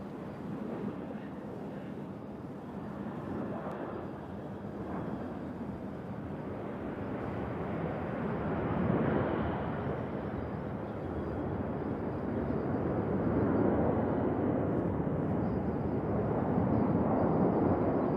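A Delta airliner arriving from Atlanta at Nashville International Airport, heard as a steady broad jet roar that swells gradually and stays loud and continuous throughout, with wind buffeting the microphone.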